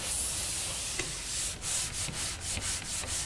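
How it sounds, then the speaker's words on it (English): A pole sander rubs along the edge of a taped drywall joint, giving a steady near scraping hiss broken by short strokes and pauses, with no talk. "Now, using the pole sander on the edge,"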